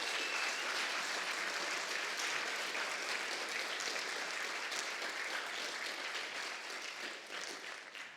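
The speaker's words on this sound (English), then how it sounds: "Can I just have a huge round of applause for our speakers today?" Sustained audience applause for the speakers at a data-science conference closing session, a dense, even roar of many hands clapping that holds strong throughout before easing slightly at the end.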